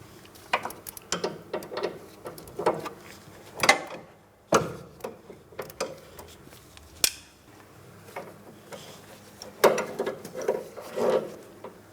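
An inner tie rod tool unscrews the inner tie rod from the power steering rack of a Mitsubishi Outlander, giving scattered close metallic clicks, ratcheting and sharp clunks at an irregular pace.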